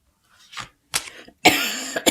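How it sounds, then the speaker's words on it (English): A person coughs three times in quick succession, close and fairly loud, with the final cough harsher and longer and brief quiet gaps between the coughs. "Excuse me for my cough."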